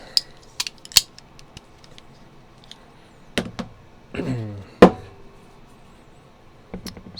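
A few sharp, close snips and clicks, spaced irregularly, with small handling noises between them and no talking.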